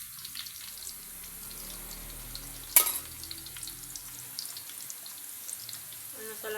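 Onion and vegetables frying in a pan for a home-cooked sweet and sour dish: a steady low sizzle with a sharp clatter of a utensil midway, and faint running water near the end.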